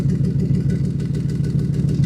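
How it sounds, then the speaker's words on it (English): A car engine idles steadily after exhaust resonators have been fitted, giving a loud, close, even low rumble with a regular pulsing throb and no talk. "and now our idle is actually louder"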